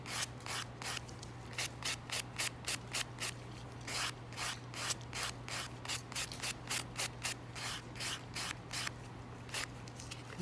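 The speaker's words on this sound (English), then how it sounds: "buff it from the centers right here" Acrylic ombre nail being buffed with a nail file, a steady run of quick rhythmic rasping strokes close up, evenly repeated throughout over a constant low hum, with no talking.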